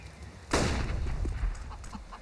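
A sudden loud AK rifle burst in a CS:GO match on the Inferno map, a sharp onset followed by a short rattling tail of shots and echoes, fading within about two seconds.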